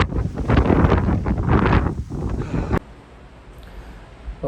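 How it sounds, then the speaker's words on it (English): Wind blowing outdoors over large open yellow fields in the UK: loud, close gusty rumble buffeting the microphone, which drops abruptly to a softer, steady breeze. "I can feel that wind."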